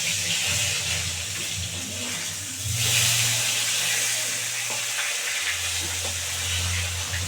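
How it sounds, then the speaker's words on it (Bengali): Two folui fish frying in hot oil make a steady, close hiss that swells briefly midway, with a low droning hum running underneath. "দুটো ফলি মাছ ছিল, সেটাও দিয়ে দিয়েছি। এবার দিয়ে একদম ভেজে নেব বন্ধুরা"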